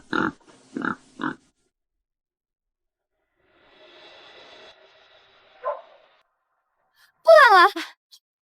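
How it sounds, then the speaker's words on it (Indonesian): A piglet gives a few short grunts, then a longer shrill squeal near the end, close and fairly loud among quiet stretches and faint rustling. "Ini anak babi."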